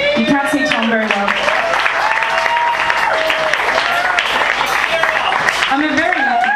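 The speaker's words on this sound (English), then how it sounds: "can I just have a round of applause for these really good looking men that are here?" A live concert audience in a small venue claps loudly and continuously for several seconds, a dense steady wash of applause with a voice speaking over it at the start and end.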